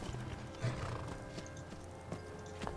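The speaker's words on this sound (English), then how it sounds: "Let me check the horse." A horse in the Skyrim video game whinnies and snorts quietly, with soft clip-clop hoofbeats underneath, all faint and brief over a low in-game ambience.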